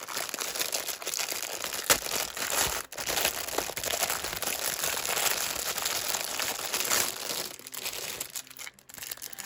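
Plastic packaging crinkles and crackles close up while a craft haul is unboxed, a continuous dense rustle with brief pauses and louder crunches throughout.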